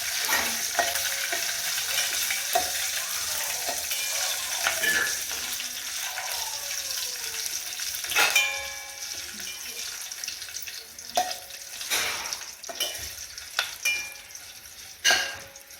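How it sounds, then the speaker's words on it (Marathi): Spices temper in hot oil for a Maharashtrian corn chivda, giving a steady sizzle and hiss with occasional sharp clatters and stirring scrapes, close and moderately loud, with running water heard in the background. "आता फोडणी देऊन घेते"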